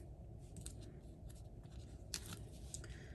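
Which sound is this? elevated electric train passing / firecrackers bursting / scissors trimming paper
scissors trimming paper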